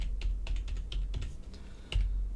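Code is typed on a computer keyboard in quick, uneven bursts of light key clicks, close and quiet, with no voices.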